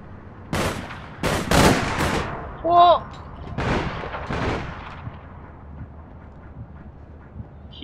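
Gunfire in the video game APB Reloaded: several sharp, loud shots in a quick irregular cluster, followed by scattered fainter pops, with a brief tonal beep in between.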